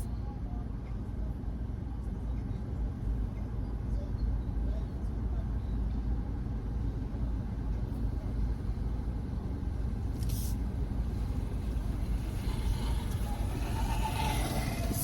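A car driving along, heard from inside as a steady low road rumble and engine drone that fills the whole stretch, with muffled voices faintly underneath.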